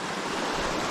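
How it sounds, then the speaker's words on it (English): A creek running strongly in midsummer on a hiking trail, a close, dense, steady rush of flowing water with no pauses and no voices. "the creek's flowing really well for the middle of summer."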